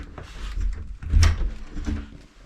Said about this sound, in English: Now we can go ahead and give the door a shut.